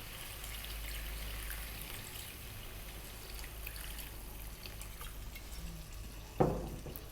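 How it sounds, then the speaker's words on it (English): Water pouring into a pot of lamb curry as a steady, quiet trickle and wash, with a brief sharper splash near the end and no voices. "Next up, water. Let's get some water in here."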